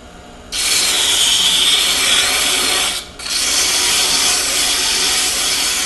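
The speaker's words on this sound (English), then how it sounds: "See how fast it wads up the sandpaper" Sandpaper pressed against a turned wooden lidded box spinning on a lathe, a loud, steady hissing rasp that pauses briefly midway and then resumes.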